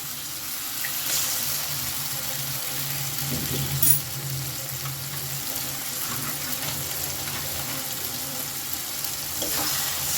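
An egg frying in a pan with softened tomatoes for egg tadka gives a steady, close sizzle that holds evenly throughout, with no voices.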